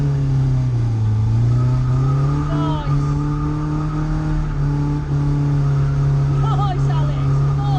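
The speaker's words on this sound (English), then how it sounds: "just build the revs up" A car engine revs steadily during drifting practice around a cone at a first drift day, holding a sustained droning pitch that rises and settles. Tire noise runs underneath, and voices talk over it.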